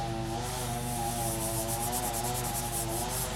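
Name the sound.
fingers rubbing powder over polymer clay surface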